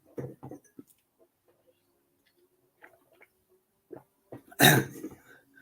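Scattered small rustling noises give way to a sudden burst of spluttering coughing, close and loud, then fading out.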